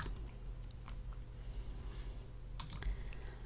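Quiet computer keyboard typing while entering a formula in a spreadsheet, a few sparse key clicks over a low hum with a firmer tap near the end, no voices.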